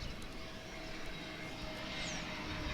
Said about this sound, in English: This is an American Airlines flight coming in from Anchorage,